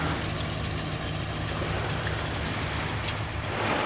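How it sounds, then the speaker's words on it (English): A beach-raking tractor runs steadily close by, its continuous low engine drone holding level throughout with no voices over it. "My personal tractor is still raking our beach right now. That's why it's loud in the background."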